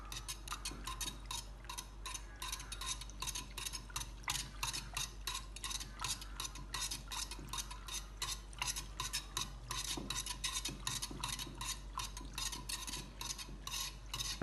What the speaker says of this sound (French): j'utilise le fouet, je suis en train de remuer.